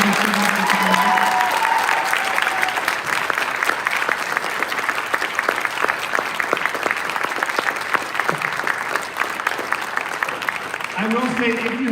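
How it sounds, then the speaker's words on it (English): Sustained applause from a concert audience for a fifth grade school band, a broad wash of many hands clapping steadily throughout, with brief hints of voices at the start and end. "you can give them one more big round of applause"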